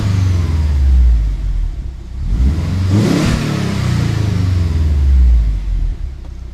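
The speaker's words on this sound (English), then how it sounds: "We'll let her get up to temperature and then we'll give it a couple revs" A Subaru WRX engine idles and is revved a couple of times, loud and close, with a low steady rumble swelling into rising revs and then settling back to idle.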